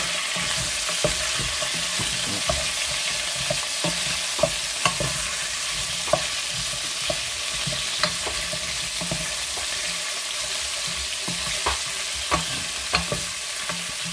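Small chicken pieces fry and brown gently in a pan, a steady soft sizzle with occasional light clicks and stirring taps, close up and with no voices.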